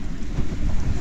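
Strong wind gusts of around 35 knots buffet a sailboat at sea on a passage to Port Vila, a steady broadband roar with rumbling low-end buffeting and no voices.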